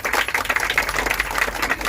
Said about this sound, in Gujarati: આપણે તાળીઓથી એમને વધાવીએ